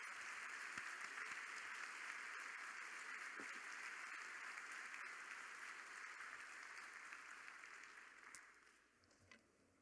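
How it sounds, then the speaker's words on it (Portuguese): An audience at a maritime symposium in an auditorium applauds in a dense, sustained wash of clapping that holds steady, then thins and fades out near the end. "E eu peço, então, uma salva de palmas por essa participação extraordinária do nosso país."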